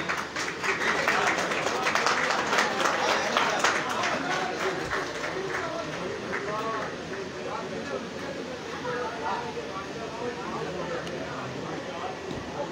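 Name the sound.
audience applause at pigeon race prize ceremony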